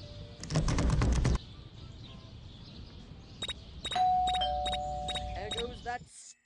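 A ding-dong doorbell chimes repeatedly inside the Scary Teacher 3D video game, bright tones sounding in short bursts after a loud thump, fairly close and clear against quiet game ambience.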